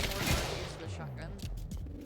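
Gunfire in the video game Quantum Break, a loud burst of shots up close with a rumbling tail, then scattered fainter pops and clatter, voices talking underneath.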